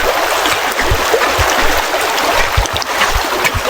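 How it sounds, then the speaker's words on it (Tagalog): Steady rushing wash of a very large river flowing, with small splashes and gurgles close by along the bank, continuous and fairly loud with no voices. "Ito yung aking sinasabi na napakalaking ilog."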